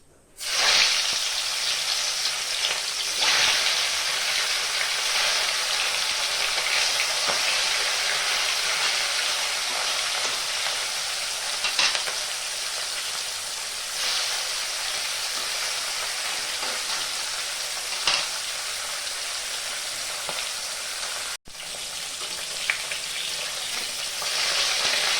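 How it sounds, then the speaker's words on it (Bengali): Pieces of chital fish fry in hot mustard oil in a wok, giving a loud, steady sizzle that runs unbroken for about twenty-five seconds with a few sharper crackles and no voices. "তেলটা গরম হয়ে গেছে, আমি মাছ কটা ভেজে নেব।"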